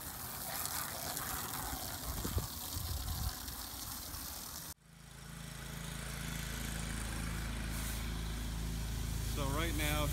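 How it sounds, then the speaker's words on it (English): A pressure washer hose rinses plants outdoors during a cedar restoration job, starting as a hissing spray and then giving way to a loud, steady machine drone after an abrupt cut. "So right now he's rinsing off plants just to add a little barrier"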